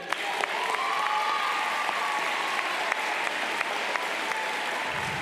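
A large crowd applauds the staff at a high school graduation ceremony, steady clapping from a distance that fades out near the end, with a faint whistle-like tone over it.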